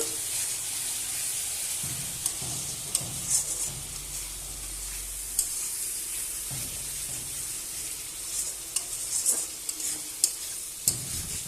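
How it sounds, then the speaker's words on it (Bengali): Fish and potatoes sizzle in a frying pan while a utensil stirs them, giving a steady hiss of frying with repeated scraping, clinking stirs throughout. "তো ভালো করে একটু নেড়ে নেব।"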